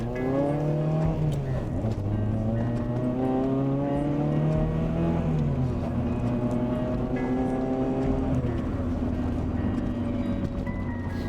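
A Honda Prelude engine pulls away into traffic and climbs through several gears, pitch rising and dropping with each shift, steady and close throughout.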